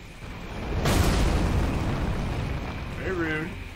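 A golem in Elden Ring: Shadow of the Erdtree hurls projectiles, landing as a loud booming impact with a rumbling tail that carries on under a voice near the end.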